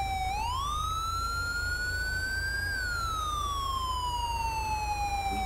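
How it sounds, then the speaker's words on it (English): A police car siren in the video game Grand Theft Auto V wails in a slow rising and falling sweep, loud and continuous over low engine rumble, with no talk. "Or is he turning up that siren?"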